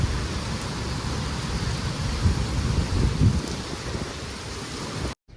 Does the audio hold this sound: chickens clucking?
no